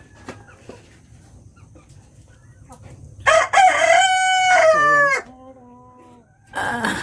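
Native heritage chickens with a rooster crowing loudly and close by, one long cock-a-doodle-doo in the middle of the clip over faint background clucking and farmyard noise.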